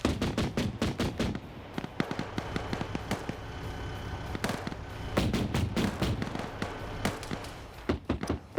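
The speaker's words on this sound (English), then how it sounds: "We still have that autocannon causing issues, though." Autocannon fire in Frontline: loud, rapid strings of heavy thumping shots come in bursts with short gaps between them, over a low rumbling battle background.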